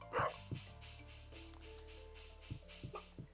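A dog in the Stardew Valley video game gives a few short, quiet barks and yips, one near the start and a cluster near the end. Soft game music plays underneath.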